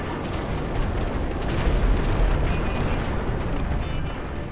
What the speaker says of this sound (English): Let's check out how the cluster bomb works.